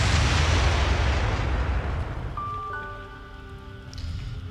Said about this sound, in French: Et bim. Explosion.